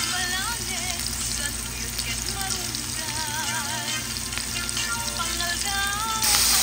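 Tomatoes sautéing with garlic, ginger and onion in shrimp paste (bagoong) in a pan, a continuous even sizzle lasting several seconds beneath a wavering, melodic tonal background.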